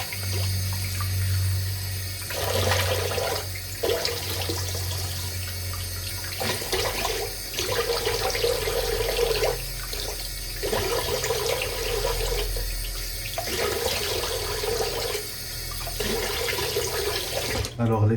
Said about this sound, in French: Donc rinçage à l'eau froide.